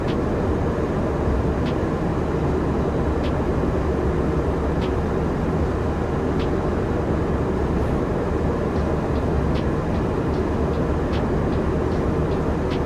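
Steady broadband roar of Airbus A319 engines at cruise in the X-Plane 12 flight simulator, a constant loud drone with faint periodic ticks and no talk.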